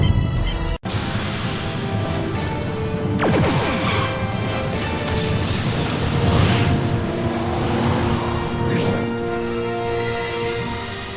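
Photon torpedoes launch from a starship in the Star Trek Elite Force game, a sharp crash followed by booming, rumbling impacts and sweeping tonal effects that swell and fade over a sustained drone.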